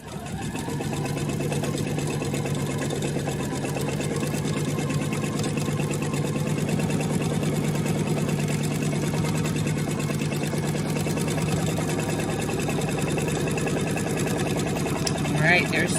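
A sewing machine stitches a Christmas tree table runner, running in a steady, continuous mechanical whir for the whole stretch at a constant, moderate level.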